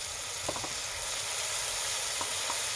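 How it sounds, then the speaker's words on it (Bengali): Spice paste with turmeric frying in a pan for fish-head mung dal gives a steady close sizzle throughout, with a few soft stirring scrapes near the start and again toward the end. "এটাকে আমি ভালোভাবে ভেজে নেবো মশলাটা"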